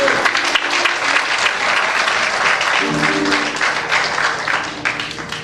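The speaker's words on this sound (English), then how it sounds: "Now let's give the Holy One a bigger hand clap together." Thick, sustained hand clapping from a Baptist church congregation, loud and continuous throughout, while sustained organ or music tones enter partway and voices murmur beneath.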